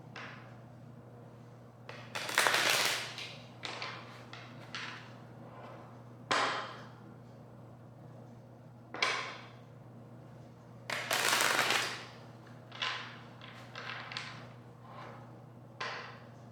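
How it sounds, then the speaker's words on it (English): Tarot cards being shuffled close up in about five separate bursts of crisp riffling and flicking, with soft taps and thuds between them over a low steady hum in a quiet room. "I'm gonna do 5 shuffles."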